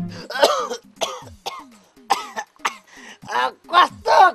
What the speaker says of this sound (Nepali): कस्तो खोकी लाग्यो